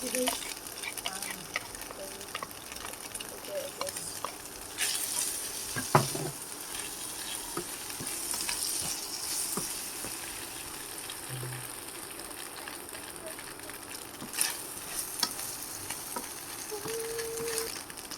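An egg frying in a pan for fried rice gives a steady, soft sizzle with occasional stirring scrapes and light knocks, moderately close and fairly quiet throughout.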